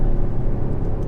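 Mercedes GLC63 AMG engine under acceleration, a loud, deep, close rumble from inside the car lasting about a second, without distinct exhaust pops.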